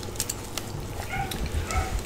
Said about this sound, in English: my dogs, or the dogs next door, are going off in a frenzy right now